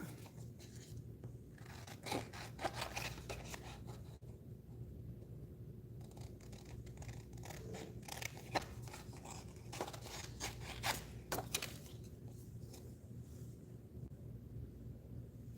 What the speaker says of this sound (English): Let's cut those out.